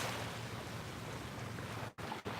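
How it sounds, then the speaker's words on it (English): Ocean waves wash steadily onto a beach in a soft, continuous hiss with a faint low rumble, broken by two brief dropouts near the end. "it feels really good to listen to the beach, to listen to the waves"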